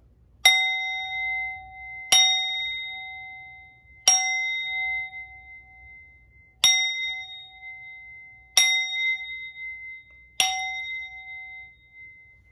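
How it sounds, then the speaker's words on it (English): A hand bell is rung six times at roughly two-second intervals, each loud, clear metallic strike ringing out briefly before decaying, with no voices in between. "So I am going to ring this bell."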